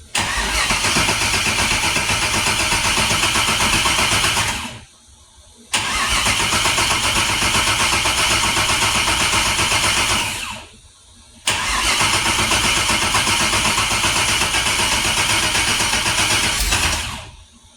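An LS engine in a C4 Corvette cranks and catches three times, each run a loud, sustained roar of several seconds cut off by a short quiet gap before the next start.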